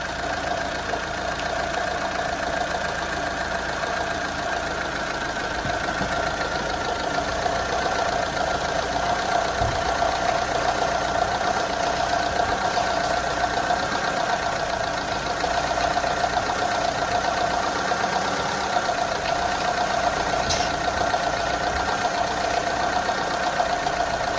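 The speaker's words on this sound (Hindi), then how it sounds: "हमारी गाड़ी चल रही है, हमारा इंजन चल रहा है।" A car engine idles steadily and evenly for a long stretch during a power steering switch test, with a constant mid-pitched hum and no talking.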